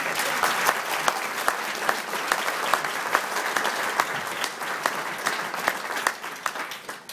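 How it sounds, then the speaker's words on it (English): A crowd at the NSA 3D convention in Costa Mesa, California claps for several seconds in a steady, moderately loud wash of applause, with individual sharp claps standing out near the end as it thins slightly. "you should really give yourselves a round of applause"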